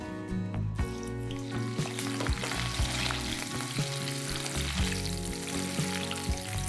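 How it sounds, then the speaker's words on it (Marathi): Whole slit green chillies fry in hot oil with a steady, dense sizzle close by, punctuated by light clinks and stirring, with no one talking. "आता ह्या मिरच्या आपण तळून घेऊ."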